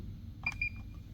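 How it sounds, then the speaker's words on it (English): Two short electronic beeps from a Galaxy alarm keypad, close together, in a quiet room with a low background hum. "So it beeps."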